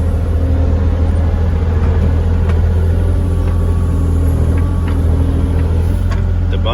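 An excavator working on a sloped trail, its diesel engine a loud, constant low rumble with faint clanks now and then over the drone.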